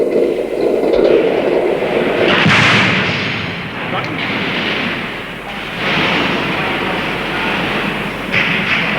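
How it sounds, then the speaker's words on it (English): Mortar fire during fighting between guerrillas and Jordanian troops booms loudly in a dense, rumbling barrage that swells and fades in waves over several seconds. "That was mortar."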